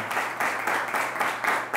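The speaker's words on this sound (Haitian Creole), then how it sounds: "Applaudissements pour Johnny Selikou." Short round of clapping from a forum audience for a speaker, pulsing in quick loud bursts from a small gathering indoors, brief and with no talking.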